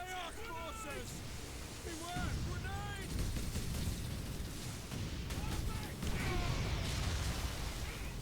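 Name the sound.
autocannon fire in Warhammer video game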